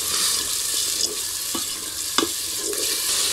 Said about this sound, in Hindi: अब यहाँ पे देखिए प्याज लहसुन अदरक सब कुछ अच्छे से भून गया